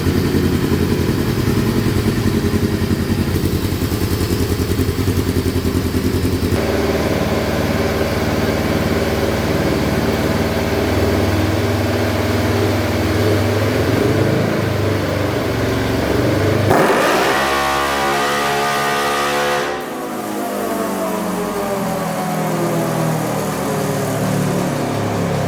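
A Polaris RZR side-by-side engine on a dyno, tuned with a Power Vision: a sustained loud mechanical drone that climbs steadily in revs, then drops sharply and sweeps down as the throttle is released, with no talking.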